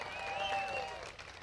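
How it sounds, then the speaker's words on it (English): Audience clapping at a Tea Party tax day gathering, a soft, fairly distant patter of applause with a voice speaking over it. "Yes, you can clap. Clap for him."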